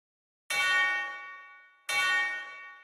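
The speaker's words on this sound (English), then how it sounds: "I used the same approach to choke the first two tubular bell hits" Two tubular bell strikes with simulated damping, each ringing brightly and then choked off short, the second following about a second and a half after the first, loud and alone.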